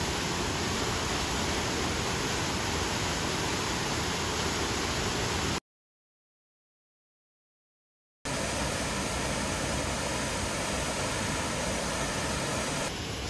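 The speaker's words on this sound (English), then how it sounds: "Beautiful waterfall." Looking Glass Falls, a waterfall, roaring as a steady broadband rush that fills the scene, cutting to silence for a few seconds before the same constant roar resumes.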